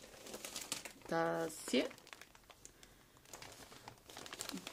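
Paper crinkles and rustles as a parcel is unpacked by hand, close and fairly quiet, with a short spoken phrase partway through.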